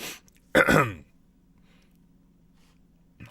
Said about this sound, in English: Clear my throat from all this freaking junk in it